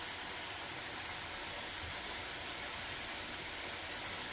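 Fresh-cut potato chips frying in hot oil make a soft, continuous sizzling hiss, steady and fairly faint, with no talk.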